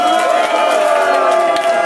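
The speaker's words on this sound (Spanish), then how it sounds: "Fuerte el aplauso a la derecha." Loud party crowd cheering and applauding at a beach party in Playa del Carmen, a continuous roar of voices and whoops with music behind it, steady throughout with no pauses.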